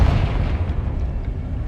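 A Confringo blasting spell explodes in Hogwarts Legacy, one loud, booming blast with a heavy low rumble that fills the whole short moment.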